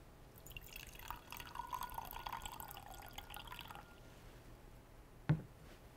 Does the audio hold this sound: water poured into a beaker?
yes